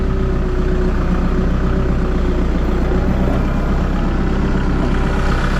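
A farm tractor engine idles steadily and close by with a deep, even rumble that holds without change throughout, while a curious calf stands nearby and no one speaks.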